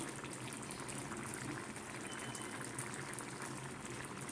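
A pot of curry with potato, taro and prawns bubbles steadily on the stove, a dense continuous simmering hiss with soft popping, fairly close and unbroken throughout.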